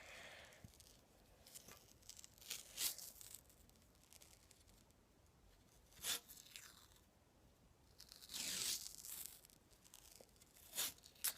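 Tape is torn and wrapped around a hockey stick, heard as quiet, close ripping and crinkling bursts scattered across a faint background.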